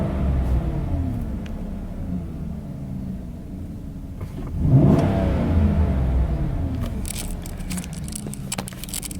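Engine of a 2014 Chevrolet Silverado pickup fitted with an AIRAID intake, running steadily at close range with a single brief rev swelling around the middle before settling back to a steady drone.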